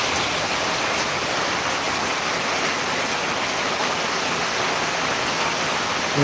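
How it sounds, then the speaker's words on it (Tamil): Rainwater rushes steadily along a roadside ditch during heavy rain in Krishnagiri, a dense, even wash of flowing water and falling drops that stays loud and unbroken throughout. "டிச்சில் போகுது தண்ணியலா"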